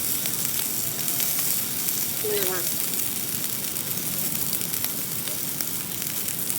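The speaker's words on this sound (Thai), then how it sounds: "เอียงกระทะเพื่อให้เนยละลาย จากนั้นช้อนเนยที่ละลายลาดสเต็กไปเรื่อยๆ เลยนะคะ" Steady sizzling and crackling of steak frying in hot butter, a continuous bright hiss with faint pops, a brief squeak partway through.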